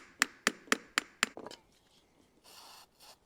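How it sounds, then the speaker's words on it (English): A hammer taps a seized bearing on a chicken plucker shaft five times in a quick, even rhythm of sharp metallic knocks, followed by softer scraping and rubbing, close and fairly quiet. "tapping it with a hammer and trying to work it free"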